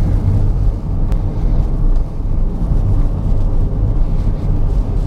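A 2021 Hyundai Venue driving along a twisty mountain road, heard from inside as a steady low engine and road rumble with some wind noise, constant and fairly loud, with no talking.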